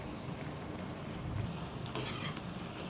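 Bitter gourd (karela) pieces frying in oil over a medium flame for karela gosht: a steady soft sizzling hiss, with a brief clink of a utensil stirring the pan partway through.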